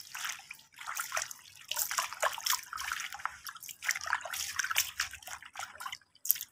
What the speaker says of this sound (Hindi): ये हम पहाड़ी पुदीने को भी टब में डालकर अच्छे से धो लेंगे।